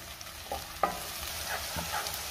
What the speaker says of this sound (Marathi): आता आपल्याला ह्यामध्ये टोमॅटो घालायचा आहे आणि टोमॅटो सुद्धा आपल्याला मऊ होईपर्यंत शिजवून घ्यायचा आहे।